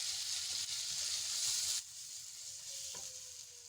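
Masala and a tablespoon of besan sizzling and being roasted in a pan for aloo kachori, a steady close hiss with a drop in intensity partway through and light scraping from stirring.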